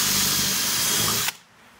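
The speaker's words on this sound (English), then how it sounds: "Now you can just drill through enough." A power drill bores steadily through an old rubber tyre in a loud, close, continuous whine that cuts off abruptly near the end.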